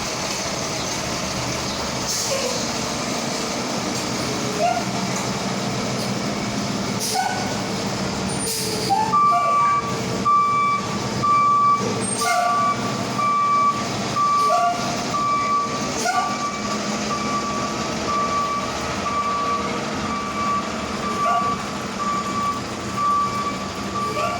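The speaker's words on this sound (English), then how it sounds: "Hold on, let this truck go." A truck rumbles past outside, a sustained heavy engine and road noise with a steady high-pitched tone and beeping, swelling midway and holding loud before easing off.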